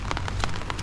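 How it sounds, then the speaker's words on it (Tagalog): Light drizzle patters on a car in the evening, a soft steady hiss with scattered drop taps over a low engine rumble, close and continuous. "Mga ambon to, ulan-ulan na to eh"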